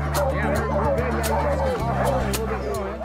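Sled dogs at a mushing kennel in Talkeetna, Alaska, barking and yipping in rapid overlapping bursts, some near and loud, over a steady background hum and faint crowd babble.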